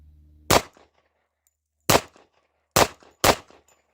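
A Tisas Yukon pistol firing factory ammunition, with four loud, sharp gunshots alone: one, a pause of over a second, then three in quicker succession, each with a short ringing tail.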